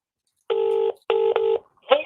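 Mobile phone keypad dialing a number, three crisp tones in quick succession with a short gap after the first, followed by a brief faint sound at the end.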